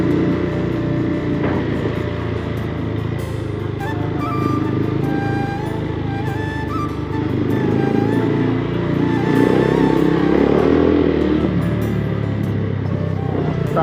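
A motorcycle engine runs loud and steady while riding through daytime traffic, with wind and road roar, passing vehicles and occasional horn honks around it.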